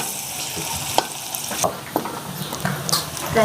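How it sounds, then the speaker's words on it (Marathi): Chopped onion sautéing in a pan for kurdu leaf bhaji, a steady close sizzle with scattered stirring scrapes and small pops throughout, no voices. "कांदा लाल होतोपर्यंत आपण परतून घ्यायचा"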